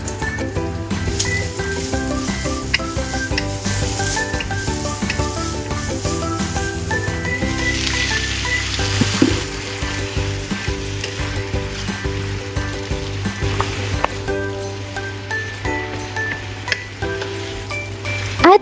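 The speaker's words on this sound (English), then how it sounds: "then add the cabbage and continue stir-frying" Carrots and cabbage sizzle and crackle steadily in a hot pan, with occasional scraping and clinking of a utensil as they are stir-fried.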